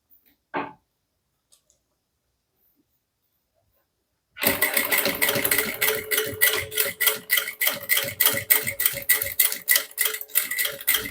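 A sewing machine stitching a handbag with a strap, including backstitching: a click, then silence, then a loud, rapid mechanical chatter of stitching that runs steadily to the end.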